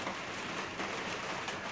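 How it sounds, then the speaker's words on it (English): Dense, steady hiss of rain pouring down, a continuous wash of patter with no pauses or voices. "the rain is really coming down."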